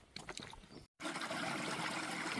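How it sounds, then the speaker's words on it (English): A stream crosses a trail on the Appalachian Trail in North Carolina, heard as a close, steady trickle of running water after a brief cut of silence near the start. "luckily there was a stream crossing"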